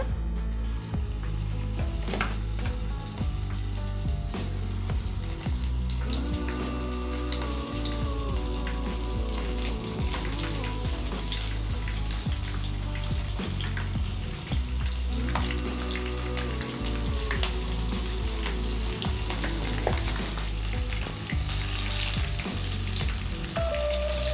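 Cauliflower 65 (gobi) pieces deep-frying in hot oil, a dense continuous bubbling sizzle with crackling spatters, close and steady throughout over a low constant hum.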